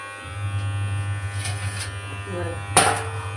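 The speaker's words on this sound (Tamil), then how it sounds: "மிஷின் வேறு ஓடுதா ஸோ கத்திகிட்டே இருக்குது" A washing machine runs in a home kitchen, giving a steady low droning hum throughout while a person talks over it.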